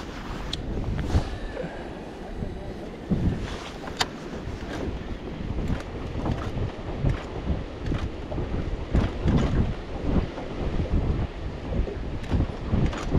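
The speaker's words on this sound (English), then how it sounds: "the wind is no joke" Strong wind buffets the microphone outdoors on open water during a cold-water fishing trip from a boat, with constant roaring gusts and low rumble, loud and continuous, occasional sharper knocks, no talking.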